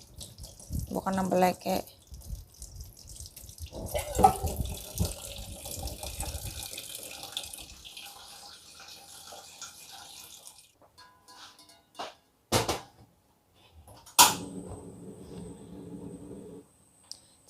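Tap water runs and splashes in a sink while eggs are washed under it, loud at first, then a faucet squeak and short bursts of flow, with brief speech.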